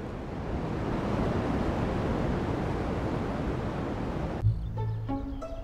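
A broad, steady hiss of cosmic background radiation radio static, picked up by the Horn Reflector Antenna at Bell Laboratories, runs continuously, then abruptly cuts off near the end, giving way to quieter tonal sounds.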